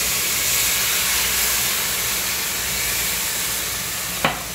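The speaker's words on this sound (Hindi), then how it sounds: "ये दूध डालेंगे इसमें।" Milk poured into a pan of rusk halwa and stirred, a steady broadband sizzling hiss throughout with one short scrape near the end, no talking.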